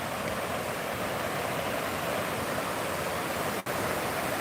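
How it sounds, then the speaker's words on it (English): River rapids rush in a loud, constant roar of churning water, close by and unbroken apart from one tiny dropout, with no voices. "Here we are. Here's the rapids."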